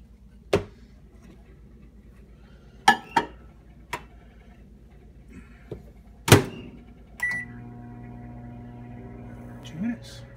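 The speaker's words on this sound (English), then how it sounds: "And into the microwave." A microwave oven hums steadily while heating canned Chef Boyardee beef ravioli, with scattered clicks and knocks from the dish and door beforehand and a faint tone near the end.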